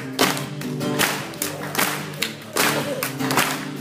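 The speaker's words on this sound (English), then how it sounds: "We just clap on the verses." Several people clap in a regular beat during a church worship song, sharp claps landing roughly every half second over sustained music.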